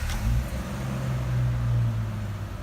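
A vehicle engine idles steadily, a low continuous hum with a constant rumble throughout and no revving or talk.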